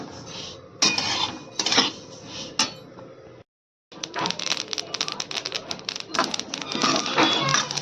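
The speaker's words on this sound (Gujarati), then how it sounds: "આપણા તલ તળતળ બોલવા લાગ્યા છે એટલે શેકાઈ ગયા છે" Sesame seeds crackling and popping as they roast in a dry pan, with scraping stirring sounds and metallic clinks; a brief silence splits the sizzling midway.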